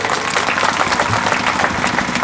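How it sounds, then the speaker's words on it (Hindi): Audience at a poetry recital breaks into sustained applause, a dense, loud wash of clapping from many hands that carries evenly through the moment. "तो एक बार तालियां बजाइए।"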